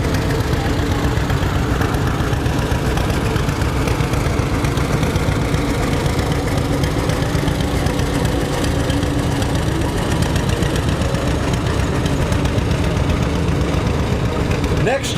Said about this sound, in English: That is a 1949 John Deere D.